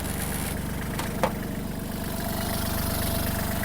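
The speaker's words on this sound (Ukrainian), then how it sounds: "Тракторець чисто, гарно працює." A Kubota GL-261 tractor engine idles steadily up close, a continuous low rumble with an even mechanical throb and one brief click partway through.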